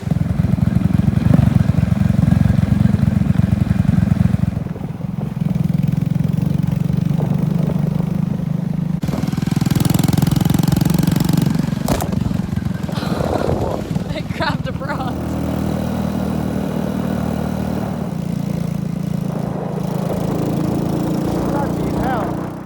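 A motorcycle climbing a very steep road on the Thakhek loop in Laos in first and second gear, its engine droning and labouring loudly and continuously with shifts in pitch.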